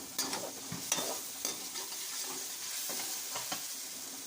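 Chopped tomatoes cooked down with masala spices for a masala baingan dish, frying softly in a pan with a continuous quiet sizzle and occasional stirring scrapes.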